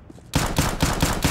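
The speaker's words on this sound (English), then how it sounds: "I only saw him once he started shooting me" Loud, close gunfire in CS:GO plays in a rapid, even automatic burst of about six shots after a brief quiet moment, with no talking.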